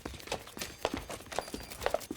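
Horses' hooves clip-clop at an even walking pace, pulling a carriage along a road, a series of fairly faint, regular hoof strikes.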